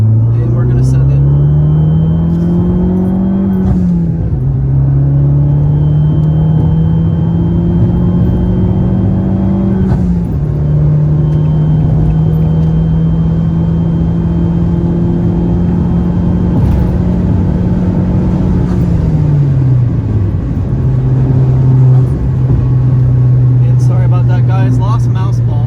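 An Abarth car accelerates hard around a tight loop road in Florida, its engine revving up and dropping with gear changes, close and loud, while people talk over it.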